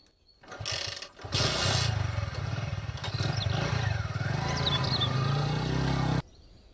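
A motorcycle engine idles and then revs up as the bike pulls away, a steady close rumble with mechanical rattling, ending abruptly.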